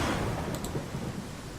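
Rain and low thunder rumble as a continuous dense wash of ambient weather in the fantasy role-playing game Pathfinder: Kingmaker, heard alone.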